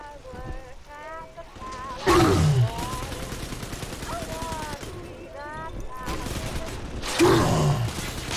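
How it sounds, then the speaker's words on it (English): Turret gunfire in Bioshock 2, with rapid bursts of automatic fire arriving in two loud waves, mixed with other game sounds and vocal-like groans. "I have had enough of turrets."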